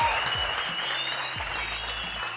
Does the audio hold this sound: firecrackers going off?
no